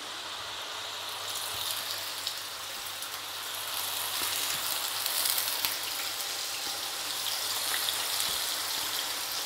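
Potato slices frying in a pan, a continuous even sizzle and crackle with faint pops, close by and steady throughout with no talk.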